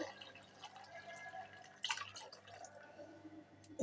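Thick, cooled boiled milk is poured onto laccha semai, making faint, close dribbling and dripping sounds with one brief louder splash partway through.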